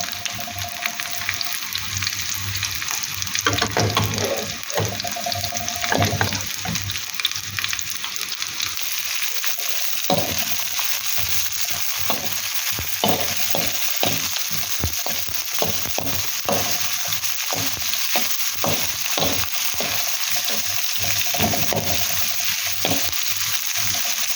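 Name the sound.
stir-frying vegetables in a pan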